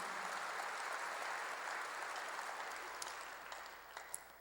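A church congregation applauds during a sermon with a steady, moderately quiet patter of clapping that thins out toward the end, a few distinct claps standing out in the final seconds.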